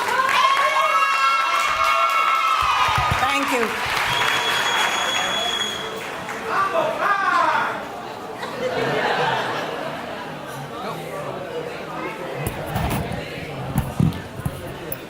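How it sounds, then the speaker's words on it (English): Clapping and scattered cheers from a graduation ceremony crowd honoring graduates, loud at first and then thinning out, with laughter, shouts and voices mixed in as the applause fades toward the end. "Please express your appreciation for these people by giving them a round of applause, graduates"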